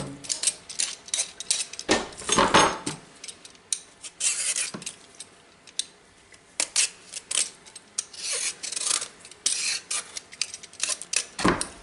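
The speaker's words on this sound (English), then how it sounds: "Cut it in half, scoop out the seeds, and then I get a peeler and I just peel off the outside." A vegetable peeler scrapes along a halved butternut squash in a home kitchen, giving repeated short rasping strokes in irregular bursts, close and fairly quiet, with occasional clinks of metal against a board.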